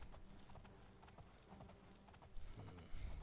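Horse hooves in The Elder Scrolls IV: Oblivion clip-clop faintly in a quick, steady gait, with soft, repeated footfalls at low volume.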